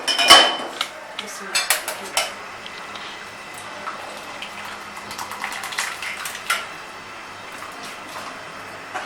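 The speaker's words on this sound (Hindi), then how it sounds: "अब हम क्या करते हैं, इसको छान लेते हैं।" Ground chaat masala sieved over a pot while making papri chana chaat, giving scattered light metallic taps and scrapes with soft rustling, fairly close and irregular throughout.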